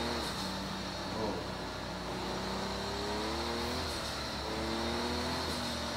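A car engine fitted with a smart control box pulls steadily in second gear, a continuous close drone whose pitch rises slowly and evenly under acceleration with no talk over it.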